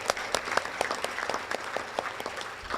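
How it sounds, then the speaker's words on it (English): Scattered audience applause at a hall of fame ceremony, a modest crowd clapping with distinct individual claps audible in a loose, uneven rhythm, fairly close and moderately loud. "Let's clap him."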